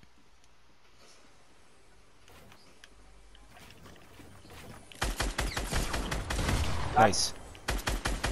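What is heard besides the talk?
gunfire in the video game Fortnite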